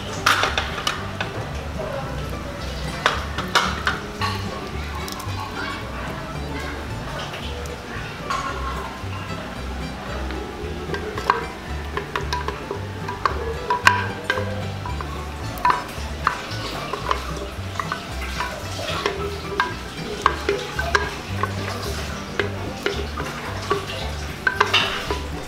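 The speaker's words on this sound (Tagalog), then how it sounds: "So yan, hahaluin po natin para magsama-sama po yung ating mga sangkap." A spoon stirs a thick mixture of blended durian and cassava starch in a pot, with soft, repeated scraping and knocking against the metal, and a voice talks over it throughout.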